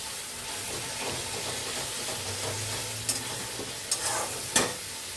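Masala for a Bengali mutton curry fries in a pan: a dense, continuous hissing sizzle with a low rumble beneath it, joined by a few sharp metallic stirring clicks in the later seconds.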